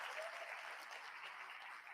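Applause from a crowd at a spring semester opening day gathering, a soft, even spread of clapping that sounds somewhat distant and lasts about two seconds.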